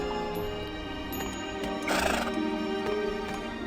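A horse neighs in the fantasy MMO game EverQuest II, a loud whinny over steady game music, with clip-clopping hooves in the background.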